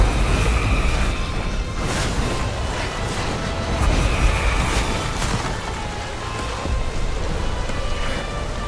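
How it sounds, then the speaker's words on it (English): A volcano erupting in the Dungeons 4 video game, heard as a continuous, dense rumbling roar with repeated booming bursts and crackling debris, loud and steady throughout with no voices. "The Doom Hill volcano erupted yet again."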